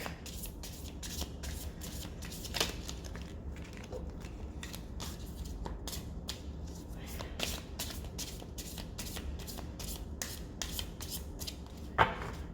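A deck of cards is shuffled over and over, a soft continuous riffling and rubbing of card edges with a sharper snap near the end, close and quiet, with no talking.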